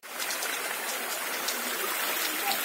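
Stream water at Vaidhegi Falls near Coimbatore rushes in a close, constant broadband wash, with no voices over it.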